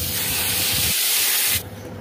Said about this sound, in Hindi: चलिए अब हम इसका तड़का लगाते हैं।